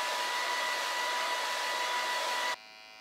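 A hair dryer blows steadily and loudly while drying a beard, a continuous close whoosh for about two and a half seconds that then drops to a much quieter hum.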